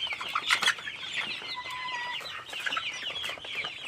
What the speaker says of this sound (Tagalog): ang bilis pala lumaki ito na po sila yung mga sisiw po dati oh